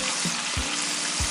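Buttermilk-coated chicken frying in hot oil, a steady close sizzle with soft periodic low bumps throughout, no voices.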